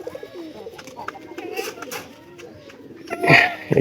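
Soft pigeon cooing in low murmuring phrases, with a louder burst of fluttering and calls near the end.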